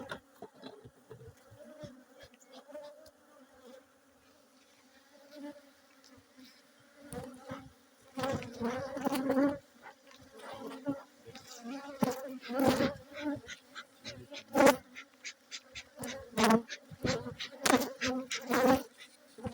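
Bees buzz around an opened beehive at an apiary, a low steady hum with louder passes close by as insects fly near, under faint background talk.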